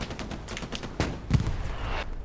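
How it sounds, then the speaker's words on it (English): Machine gun suppressive fire at Omaha Beach in Hell Let Loose: rapid, punchy bursts of automatic shots close by, with a sharp louder report partway through and continuous rattling after. "he's gonna send suppressive fire at least"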